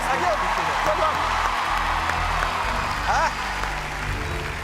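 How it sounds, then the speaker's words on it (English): A studio audience at a televised talent show applauds steadily, with a full wash of clapping and a few whoops under a host's voice. "You're going to get a round of applause."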